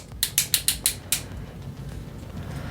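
The ratcheted, double-jointed knee of a Transformers Superion combiner figure clicks through about six quick, sharp close-up ratchet clicks, then the action goes quiet against a soft background hum.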